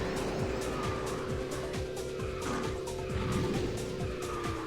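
Karts in KartRider Rush+ hum steadily while repeated squealing drift slides sweep up and down over the engine drone, close and continuous, with faint talk underneath.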